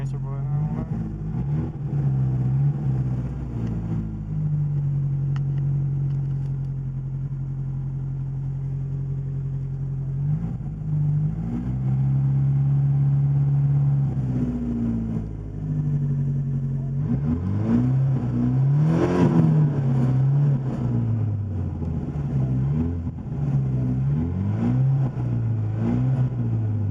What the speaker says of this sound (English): I just like revving it up.